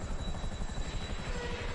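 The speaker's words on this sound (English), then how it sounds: "sometimes the helicopter lands on your vehicle before you can do the next step" A helicopter in GTA Online, its rotor thumping in a fast steady rhythm with a loud engine drone, close and continuous with no talk.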